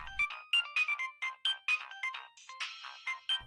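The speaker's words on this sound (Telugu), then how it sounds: "ఫోన్ వస్తుంది చూడు" A phone ringtone for an incoming call plays loud and alone, a bright repeating electronic melody of short rising notes that keeps going without a break.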